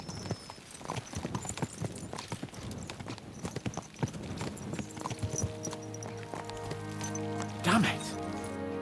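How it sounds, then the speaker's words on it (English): Horses galloping in Kingdom Come: Deliverance II, with rapid hoof clip-clops pounding in an uneven rhythm, close and fairly loud, then giving way to a sustained tonal drone near the end. "Let's really spur these horses on, eh?"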